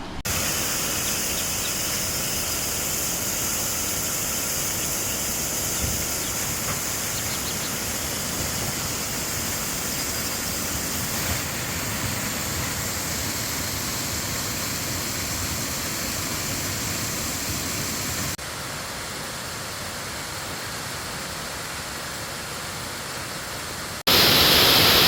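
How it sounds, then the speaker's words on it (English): Waterfall in Spearfish Canyon, a steady broadband rush of falling water heard alone and fairly loud, continuous throughout with a brief shift in level near the end. "listening to all that waterfall"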